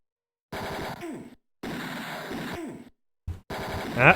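Gunfire in the video game Mean Streets comes as short bursts of shots separated by silent gaps, fairly loud, with game effects mixed in.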